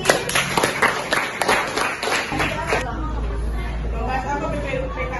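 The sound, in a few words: audience clapping in a classroom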